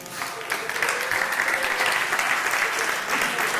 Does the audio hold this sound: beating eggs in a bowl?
no